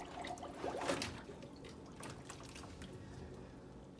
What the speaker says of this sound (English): We're gonna drain this.